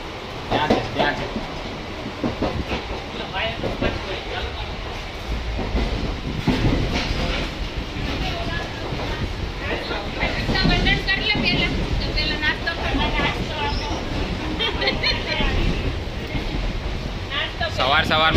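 An empty passenger train from Pratapnagar station toward Ekta Nagar, running on its rails: a steady rumble with clickety-clack from the wagons throughout, while people talk over it.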